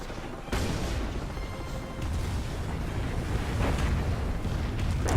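Sustained, loud roaring rumble of World War II artillery fire in the real-time strategy game Company of Heroes, a continuous wash of booms and blast noise with a sharp onset and no clear talking.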